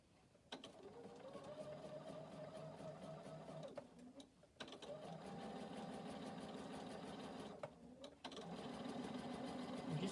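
A sewing machine stitches along the edge of existing stitches, its steady mechanical whirr running in long bursts with brief pauses between them, close and fairly loud.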